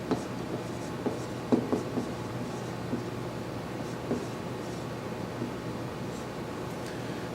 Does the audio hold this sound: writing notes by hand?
yes